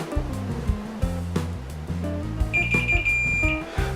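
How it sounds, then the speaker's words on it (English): A multimeter beeps steadily for about a second during a continuity test on the black cable of a MacBook charger, sounding over a steady low hum and brief clicks. "Okay, so I'm getting continuity on this black cable."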